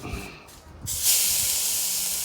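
A few soft knocks and handling sounds, then a loud steady hiss of corn oil sizzling on a hot Lodge Kickoff grill begins and holds.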